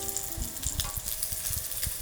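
Crayfish caught in an irrigation canal deep-frying in hot oil, giving a steady, close, crackling sizzle with dense popping throughout.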